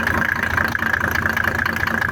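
Small motor pump engine for irrigation running steadily with its cover off, a continuous droning hum with a fast rhythmic pulse, loud and close with no talk.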